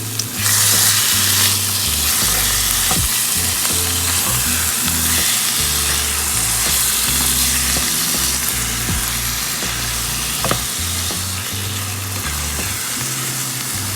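Low-carb stuffed bell pepper filling is stirred and scraped in a pan for a steady sizzle, with repeated knocks and scrapes of the spoon throughout and no talking.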